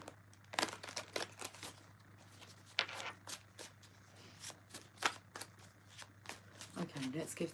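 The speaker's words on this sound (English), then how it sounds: "let's give these cards a shuffle" Tarot cards being shuffled in a series of quick papery riffles and slaps, close and intermittent, with soft rustling between bursts and a voice heard briefly near the end.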